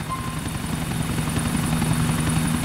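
Helicopter flying in GTA IV, a steady loud rotor and engine drone with a low rhythmic thrum, continuous and close throughout.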